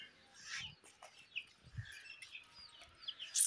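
A chick chirping, a few thin high peeps scattered across the moment with a louder chirp at the end, mixed with soft clucking and rustling nearby.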